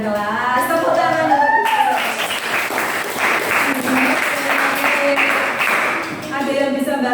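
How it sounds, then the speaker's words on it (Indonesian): A classroom crowd claps in sustained applause for several seconds, with voices speaking over the start and end. "Tepuk tangan."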